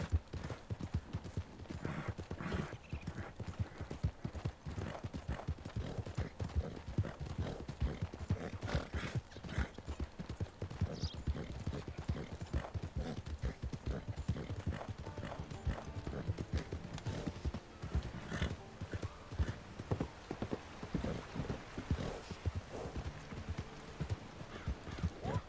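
A video game horse's hooves clip-clop in a steady, rapid rhythm throughout, with an occasional whinny, moderately near and fairly quiet, under a constant background hiss.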